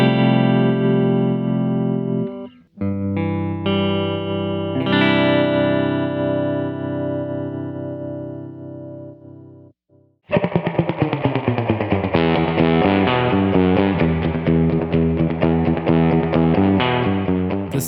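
Electric guitar through a Strymon Flint tremolo pedal, slow pulsing volume swells on sustained chords, then a brighter strummed passage with steady rhythmic throb, loud and alone.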